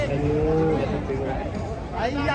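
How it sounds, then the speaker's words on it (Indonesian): A cow lows, long and drawn out, amid a noisy crowd of livestock and chattering people, with a second moo rising near the end. "Sapi nesu."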